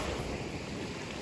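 Wind blowing at a beach in Greece, a steady broadband rush buffeting the microphone for a short moment, loud and continuous, with no voices.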